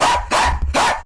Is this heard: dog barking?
yes